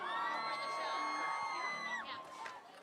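Big crowd at a Whistler big air ski contest whooping and cheering loudly, with shouts and yells rising and falling across the whole stretch, close and sustained.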